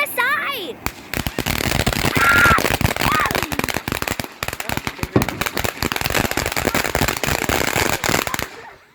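A spinning Fourth of July firework crackles and hisses continuously for about eight seconds, with dense rapid pops and sputters of throwing sparks, loud and close, while excited voices shout over it.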